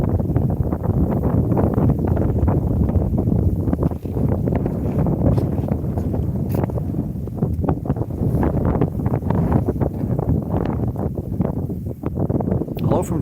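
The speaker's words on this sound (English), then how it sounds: "Unfortunately, the wind is picking up even more so." Strong night wind on the Atlantic coast at Saint John, New Brunswick, Canada, during a lunar eclipse: loud, continuous gusting roar with heavy buffeting on the microphone, with a voice partly heard beneath it.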